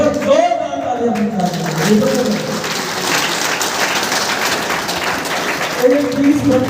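A crowd at a gurukul gathering breaks into strong, sustained clapping that holds steady for several seconds, with a speaker's voice heard at the start and end over the applause.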